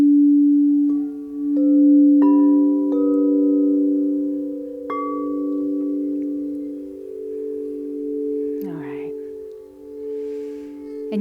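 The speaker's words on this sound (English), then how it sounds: "just allow the tones to wash over and reset." Sustained crystal sound bath tones hum in layered, steady drones with new pitches entering one after another and ringing on together, loud and close, with a brief soft noise near the end.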